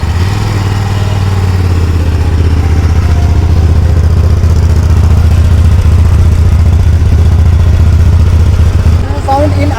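A motorcycle engine idling without revving, a Hyosung GT250R or Royal Enfield Continental GT 650, close and loud with a steady low throbbing exhaust note.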